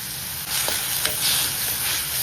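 Onion, garlic and chilli paste with cumin and salt frying in a pan, a loud, continuous close sizzle with faint scraping strokes of a spoon running through it, no voices.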